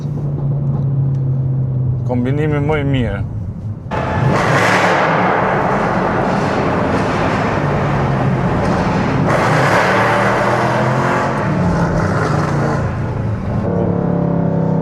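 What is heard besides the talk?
Mercedes C63 AMG car engine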